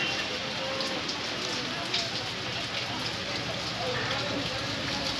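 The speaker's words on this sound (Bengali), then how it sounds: "সকাল থেকেই মুষলধারে বৃষ্টি, যত বেলা হচ্ছে বৃষ্টির স্পিড কিন্তু বাড়ছে, তার সাথে হাওয়াও খুব দিচ্ছে।" Heavy downpour in Kolkata, driven by strong wind, makes a dense, steady hiss of rain on surfaces that continues without a break throughout.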